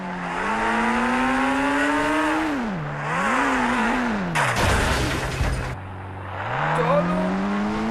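A car engine in a video game revs and drones steadily, pitch rising and falling as the car drives slowly through a jungle with two broken wheels, with a loud crunching impact partway through; no talking.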